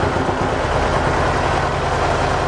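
A Mercedes 190E with the M102 engine idles steadily, a dense, even mechanical hum with a low throbbing beat, close and loud, with no voices.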